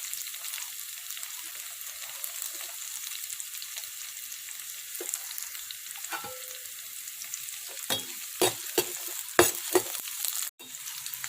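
Chopped ginger and garlic fry in a pan for an Assamese cucumber khar, a soft continuous sizzle broken near the end by several sharp scrapes and taps of stirring.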